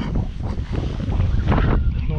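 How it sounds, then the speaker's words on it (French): Strong wind of about 50 km/h buffets the microphone while fishing on the Vilaine river, a loud roaring rumble with gusty surges and faint water noise beneath, no talking. "il y avait énormément de vent, 50 km/h de vent."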